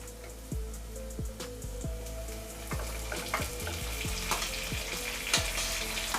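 Onions, curry leaves and tomatoes sauté in oil for a Chettinad fish curry. A continuous close sizzle carries intermittent stirring scrapes and light clinks, and there is no talking.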